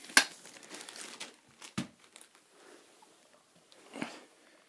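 A zip tie is snipped and a rubber seal is pulled off a zipperless bag during Falk water trap work: a sharp crinkling snap, then softer rustles and a later crackle, close and fairly quiet.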